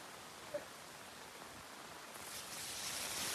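Steady rain falls continuously over a flooded village, a soft, even hiss of drops that swells a little louder toward the end, with one brief tap early on and no voices.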